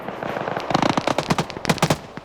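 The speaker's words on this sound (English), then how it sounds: "More 50 cal coming, smokes the Dishka car as it tries to return fire." Bursts of heavy .50 cal machine gun fire and an answering DShK vehicle gun crackle in a military video game, dense and overlapping rapid shots with no talk.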